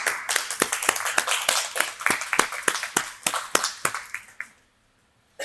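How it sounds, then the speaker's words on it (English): At a student nutrition cooking event, a small group claps in sharp, distinct strikes that fall in a quick, slightly uneven rhythm. The claps fade out near the end and are followed by a short silence. "give a round of applause to y'all."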